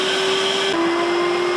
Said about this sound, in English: Richard, here's the vacuum.